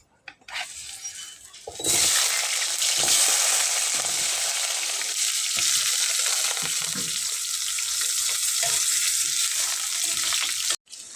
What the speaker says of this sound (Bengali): এখন আমি এই আলুগুলোকে ভেজে নেব।